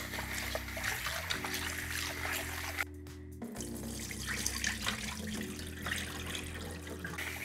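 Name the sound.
water running while rinsing rice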